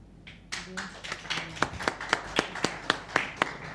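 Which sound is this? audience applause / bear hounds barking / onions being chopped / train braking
audience applause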